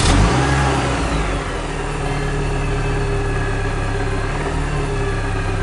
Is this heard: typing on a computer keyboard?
no